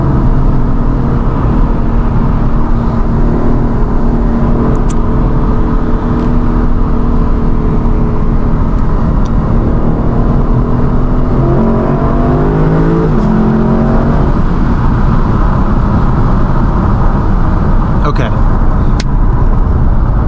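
A Lexus LC 500's V8 roars under hard acceleration as the tires spin, a loud, continuous engine drone with rising pitch sweeps near the middle, heard from inside the car.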